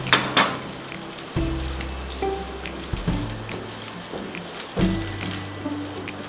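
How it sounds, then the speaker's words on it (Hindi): Chopped onions, about two, in half a cup of cooking oil sizzle steadily close up, with several clanking pan or utensil knocks cutting through the hiss. "मसाला, जिसके लिए हमने लिया है 1/2 कप कुकिंग ऑयल, इसमें हमने 1 प्याली डालनी है कटी हुई प्याज"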